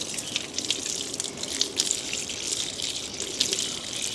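Water is sprayed hard and steadily during an extreme wash-away test, a continuous hissing rush of liquid with small splashing bursts and no talk.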